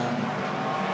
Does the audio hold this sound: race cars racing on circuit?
yes